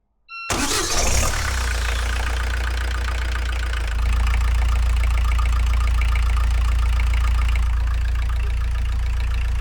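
A Volvo Penta D2-75 marine diesel fitted with a cheap AliExpress turbo starts up and runs steadily, its loud close rumble rising slightly in pitch midway and then holding an even idle.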